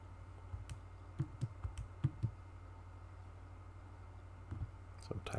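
Numbers keyed into a calculator: two quick bursts of soft, close button clicks in an irregular rhythm, separated by a quiet pause, with no talk.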